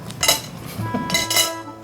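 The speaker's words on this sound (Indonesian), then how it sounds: "Ini piring pecah semua nih lama-lama nih" Dishes and plates clattering and knocking together in quick bright clinks, loud and close, in two clustered bursts across a short moment.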